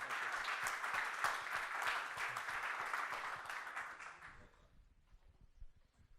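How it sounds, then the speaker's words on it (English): Audience applause for a speaker named Paul at an ACMA forum, a dense steady clapping from a room full of people that fades out over the last two seconds into quiet. "Let's give Paul a round of applause."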